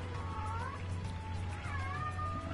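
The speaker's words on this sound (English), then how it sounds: "Other than there is an angry cat in the background." Two drawn-out meows from an angry cat carry faintly in the background of an indoor room, heard over a low steady hum.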